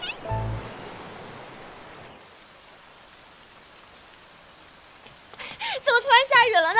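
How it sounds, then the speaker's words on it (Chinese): Sudden rain in a period palace drama setting, a steady hiss of falling rain that fades to a soft patter, with a brief low thump at the start and a voice speaking near the end. "怎么突然下雨了呢？"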